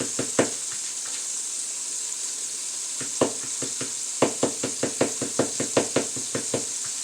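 Sliced mushrooms and other vegetables for homemade pasta sauce sizzle in a skillet with a soft, steady hiss, punctuated by a series of sharp taps and knocks that quicken toward the end.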